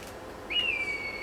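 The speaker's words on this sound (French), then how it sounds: "Ce sifflement vous indique qu'on a réussi." A single clear success whistle in Assassin's Creed III rises quickly and then holds steady, fading slightly, over quiet background hiss.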